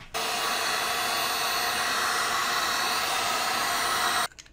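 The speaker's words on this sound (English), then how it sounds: "let's grab the heat gun." Heat gun blowing hot air onto a 3D-printed PLA housing, a loud steady whooshing roar that switches on abruptly, holds constant for about four seconds, then cuts off.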